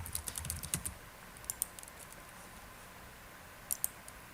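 Light, scattered keystrokes on a computer keyboard come in short bursts with pauses between them. They are quiet and close, and no one talks.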